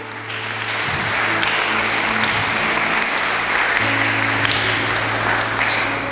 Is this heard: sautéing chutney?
no